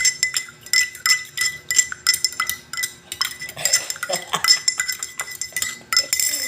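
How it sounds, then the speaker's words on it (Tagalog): A spoon stirs morning coffee in a cup, giving a steady run of close, bright metallic clinks and scraping taps that repeat rapidly throughout, with no talk over them. "Haluin na natin ang aking kape."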